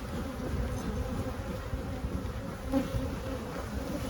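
Honey bees buzz steadily around a beehive, a close, continuous drone that holds at an even level with slight swells.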